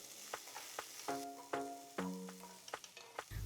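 Onions, green chilies and garlic frying in a pan, faint sizzle under several ringing metallic taps and scrapes of a spoon against the pan, quiet and close, with no voices.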